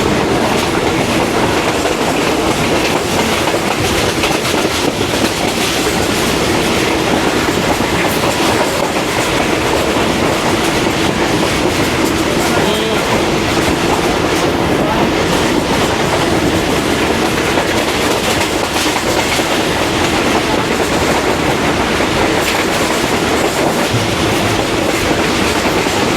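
The Rehman Baba Express runs at speed in Pakistan just past Wazirabad station, giving a loud, steady rumble with continuous wheel clatter from start to finish and no voices.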